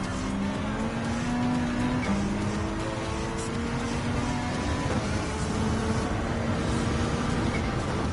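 A 2018 Ford GT race car in Gran Turismo 7 roars steadily at full throttle on Suzuka Circuit, a loud, continuous engine drone with shifting pitch and no pauses.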